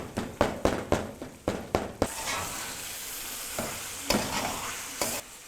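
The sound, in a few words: tomatoes being mixed in hot oil in a pan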